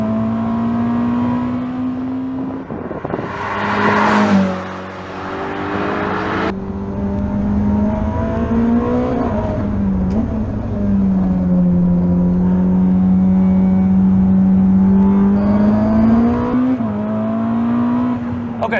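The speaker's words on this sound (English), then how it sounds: "At the exit of the corner, I floored it because the car gave me the feeling I could do that." A four-wheel-drive car accelerates hard out of a corner, its engine note climbing steadily in pitch as it pulls, loud and close throughout with a brief dip partway before the revs build again.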